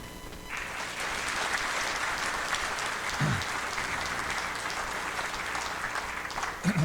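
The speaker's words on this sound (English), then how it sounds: "How about a round of applause for Joseph Gallatin from the 10th District" Broad, even applause from a large audience honouring a scholarship winner at a fall conference general session, sustained at moderate level throughout, with a faint voice briefly audible near the middle.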